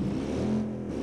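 A motorcycle engine revs in the video game Watch Dogs 2, a short, steady mid-pitched drone that rises slightly and sounds close.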